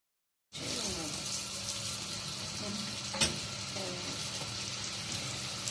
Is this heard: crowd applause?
no